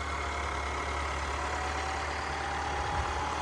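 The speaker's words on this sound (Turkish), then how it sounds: "Bu şekilde motor sesini de size dinletmiş olayım" A steady, continuous engine hum and rumble from a Mercedes-Benz GLB 200 4MATIC with a 1.33-litre 163 hp engine, like a car idling nearby, constant in level throughout with no voices.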